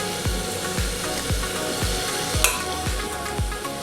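A spoon stirs mutton gravy in a cooking pan, scraping and sloshing in a steady rhythm of about seven strokes, close and fairly loud over a background sizzle.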